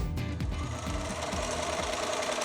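BERNINA Q 24 quilting sewing machine stitching in a steady, fast, continuous mechanical rattle, loud and close, with no voices.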